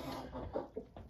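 Hen clucking while pecking at insect-larva feed, a short run of soft close clucks with two sharper notes, no talking.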